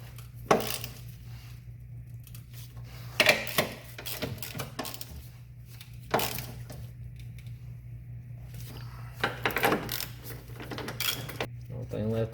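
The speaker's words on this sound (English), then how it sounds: "So now we just need to snug up our top mounting bolts." Metal clinks and ratchet-like taps come in scattered bursts as coilover top mounting bolts are snugged up on a Honda Civic EM2 during a Raceland coilover install, over a steady low hum.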